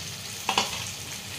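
Chicken gongura curry of sorrel leaves with ginger masala sizzling steadily in a pan, with two quick stirring scrapes near the middle and no voices.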